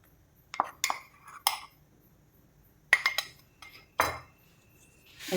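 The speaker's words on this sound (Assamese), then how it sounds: "এতিয়া এইখিনি মই লৰাই লৰাই" A spoon clinks and scrapes against a pot while stirring a rice flour mixture for patishapta pitha, several sharp metallic taps spaced irregularly with quiet gaps between.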